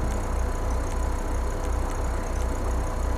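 An Audi car idles in GTA V after an engine upgrade with an upgraded exhaust, a low throbbing engine rumble that pulses steadily and stays fairly close with no talk.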